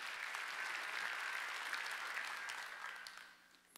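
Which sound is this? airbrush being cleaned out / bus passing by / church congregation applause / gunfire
church congregation applause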